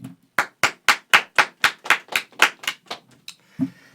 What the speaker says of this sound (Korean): 짝짝짝 박수치라고 박수해 빨리